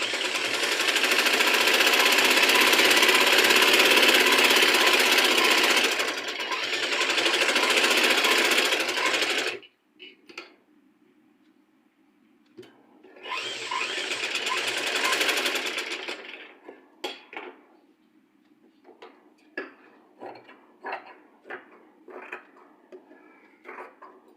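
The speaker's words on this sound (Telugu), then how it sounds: "ఇటువైపు కూడా ఎడ్జ్లో ఒక కుట్టు వేసేసుకోవాలి." Sewing machine stitching along the edge of a blouse side seam, with two long loud continuous runs of rapid stitching separated by a pause, then short intermittent bursts and clicks as the fabric is adjusted.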